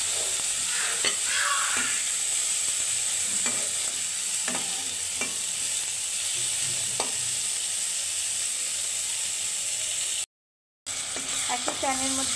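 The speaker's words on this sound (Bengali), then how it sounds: "ফুলকপিগুলো উল্টে পাল্টে ভালো করে ভেজে নিচ্ছি যেন কালারটা সুন্দর হয় দেখতে।" Cauliflower florets fry in hot oil in a pan with a constant, close sizzle, broken by repeated scrapes and clinks as they are turned. A short gap of silence falls near the end.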